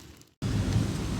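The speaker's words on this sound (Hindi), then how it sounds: "यहाँ से बरसात हो रही है" Steady heavy rain falls outside, a dense continuous wash of noise after a brief silent gap, with a low rumbling undertone like distant thunder.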